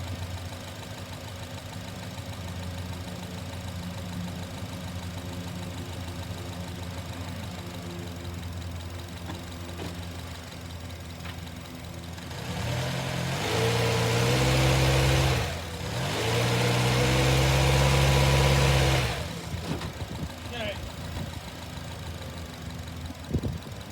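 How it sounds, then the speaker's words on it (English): A Honda car engine runs steadily under load while power braked, a low droning hum that swells louder and rougher for several seconds mid-way before settling back toward idle. "I'm going to do it with some load on it. I'm going to power brake it."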